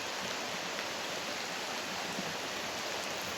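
Rain falls outdoors at night as a steady, dense hiss of evenly spread drops, constant and moderately faint, with no voices.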